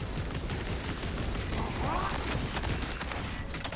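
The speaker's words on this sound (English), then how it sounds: "Servo gun engaged. You go shoot people." A servo gun fires in the video game Space Marine 2, rapid mechanical bursts and rattling impacts over a dense, loud battle din, steady throughout.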